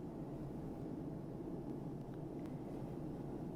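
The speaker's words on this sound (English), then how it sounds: "There is just the dull roar of planes continually arriving and leaving the close-by large metropolitan airport." Dull, steady low roar of airplanes near a large metropolitan airport, a continuous distant rumble with no distinct events and no voices.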